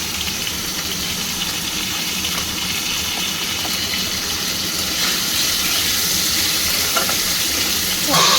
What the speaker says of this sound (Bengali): আলুটা লাল করে ভেজে নেব